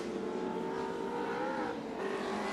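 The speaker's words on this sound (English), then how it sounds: "Mark Skaife's done a great job for Nissan since they cranked up the 3rd car." Nissan touring car racing at Oran Park in the 1989 Australian Touring Car Championship, a steady loud engine drone with a shifting pitch that holds throughout without a break.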